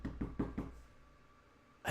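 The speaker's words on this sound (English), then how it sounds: "And he knocks on it." Four firm knocks on a front door in a quick, even run, close and clear, then a short quiet pause before another sound starts right at the end.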